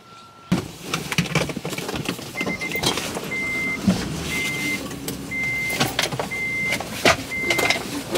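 A school bus pulls up outside on a morning street, its engine rumbling close by, while a steady series of short electronic beeps repeats at regular intervals.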